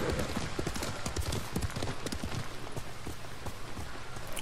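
Horse hooves galloping in Ghost of Tsushima on PS4, a rapid steady clip-clop rhythm that runs the whole time beneath a rain-like hiss of game ambience, loud and close.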